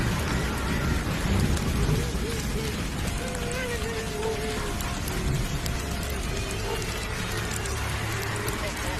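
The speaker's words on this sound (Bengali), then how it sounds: "আজ এতদিন যাবৎ টানা বৃষ্টি হচ্ছে" Heavy rain pours down in a dense, continuous hiss, with low rumbles of thunder rolling underneath.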